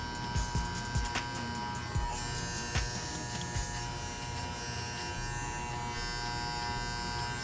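Electric hair clippers buzz steadily and close throughout a skin fade haircut, with the guard removed and the lever adjusted, a continuous hum broken by a few brief clicks and scrapes.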